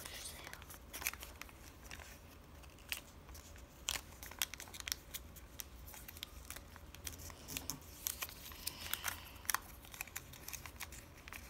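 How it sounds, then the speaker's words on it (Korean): Paper folded by hand into an origami dinosaur, a Diabloceratops, making soft crinkles with scattered crisp creasing clicks and rustles close up, under quiet talk. "이때는 반에 맞춰서 이렇게 접어주세요."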